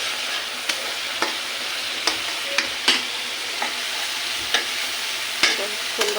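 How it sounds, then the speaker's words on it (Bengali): Whole spices frying in hot oil in a pan for potato bhaji, a steady broadband sizzle with sharp clicks and spatters of the spoon against the pan scattered throughout, close and fairly loud, with no talking. "এখন আমি অন্য চুলায় আলুটা ভাজি করব, এর জন্য মশলা কষিয়ে নিচ্ছি।"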